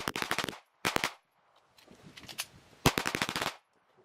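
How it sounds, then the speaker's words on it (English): Rapid bursts of Tisas BR9 pistol fire during an endurance test, several quick volleys of sharp cracks separated by short pauses, loud and close. "Look at that muzzle blast out of there."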